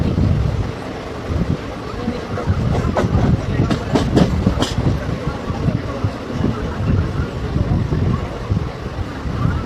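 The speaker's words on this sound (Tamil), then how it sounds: "ஒரு 10 நிமிஷம் டிலேவாக ட்ரெயின் வந்திருக்கு" Saptagiri Express passenger train on the Chennai to Tirupati line, near Tiruvallur Junction, rumbling steadily with broadband noise and a cluster of sharp metallic clanks and squeals in the middle, wind buffeting throughout.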